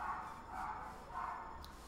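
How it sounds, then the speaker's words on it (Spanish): A distant dog barks in three faint, evenly spaced bursts, heard far off and muffled behind low background noise. "Bueno, el que se oye es otro, ¿eh? Es otro perro."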